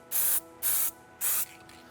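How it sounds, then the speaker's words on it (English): Web spray adhesive can hissing onto a sweatshirt press, three short, loud bursts of roughly a quarter second each separated by brief pauses, close up with no talking. "anybody who's used web spray knows it's a little messy"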